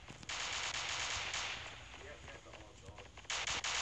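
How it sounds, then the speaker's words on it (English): Rapid machine gun fire from the Standoff video game, dense bursts of shots that run almost continuously through the short stretch, loud and close, with a short lull before a final burst. "we're gonna just sit here and just shoot"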